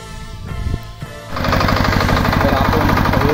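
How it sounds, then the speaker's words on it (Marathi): A Kirloskar power weeder engine starts up in neutral after a few uneven knocks, then settles into a loud, rapid, steady chugging close by. "तर आपण हे पॉवर विडर आहे हा एक चालू केलेला आहे"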